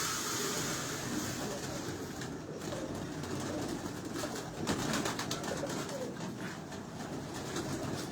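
Pigeons coo softly on a Lahore rooftop among a flock of flying birds, with faint background bustle and a few sharper taps in the middle.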